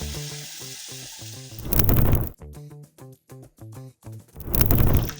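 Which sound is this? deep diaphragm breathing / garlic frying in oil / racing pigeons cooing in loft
garlic frying in oil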